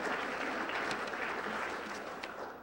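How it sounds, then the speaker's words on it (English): A dinner audience gives event organizers a round of applause, a fairly quiet, dense patter of clapping that fades slightly toward the end. "So let's give them a big round of applause."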